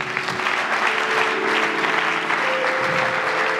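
A church congregation applauding in praise, a dense, sustained burst of clapping from a crowd with a faint tone held underneath.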